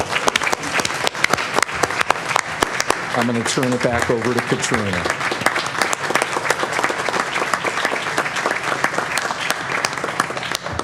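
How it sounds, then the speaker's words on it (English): Audience applause at a Board of Education meeting, steady dense clapping filling the room for about ten seconds, with a person speaking over it partway through. "if we can all give them a big round of applause"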